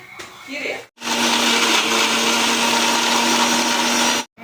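A kitchen mixer grinder whirring through chutney ingredients such as coconut, mint and coriander: after a brief voice and a short pause, a loud, steady motor drone with a constant hum runs for about three seconds, then cuts off abruptly.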